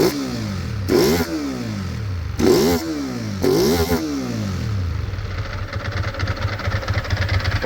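A 2002 Ducati ST4s motorcycle engine, just revived after sitting unused, revs up sharply three times and then settles back to a steady, slightly uneven idle, loud and close.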